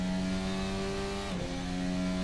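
A Formula 1 car engine in a racing game screams at a steady high pitch under throttle at the British Grand Prix, with a quick dip and recovery as a gear changes.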